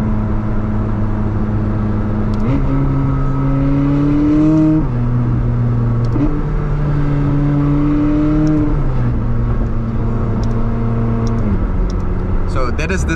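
Stock McLaren 600LT supercar with an untuned engine and factory exhaust, revving repeatedly in a steady loud drone that rises and falls in pitch over several throttle blips.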